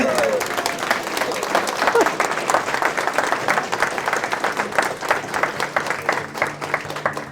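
Audience applause at a cemetery gathering honoring two early fire chiefs, a lively burst of clapping with individual claps audible, steady and fairly close throughout.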